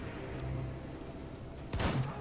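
A roto shotgun blast in Wolfenstein 2, a single loud, sharp burst near the end following a low, steady game background rumble.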